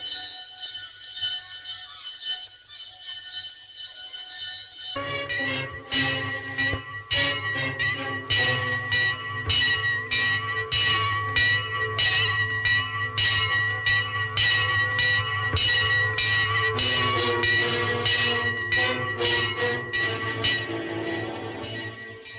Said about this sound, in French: Ah, la cloche du 10.